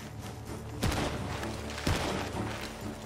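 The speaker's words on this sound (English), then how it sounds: "The gunshots are coming from that barn!" Gunfire in Red Dead Redemption 2 near a barn: two sharp reports about a second apart stand out over a busy, noisy game background with no talk.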